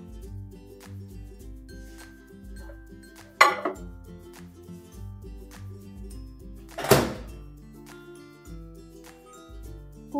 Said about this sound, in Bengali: মিশ্রণটা এবার মাইক্রোওয়েভে দিয়ে দেব।